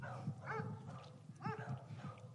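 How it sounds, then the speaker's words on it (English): A dog barks twice, distinct yaps spaced about a second apart, at moderate distance over a steady low hum. "Even the dog's barking now."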